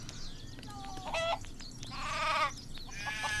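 Farm animals in the game Craft the World give a run of short calls, with chicken clucking among several brief harmonic cries in close succession and no talk.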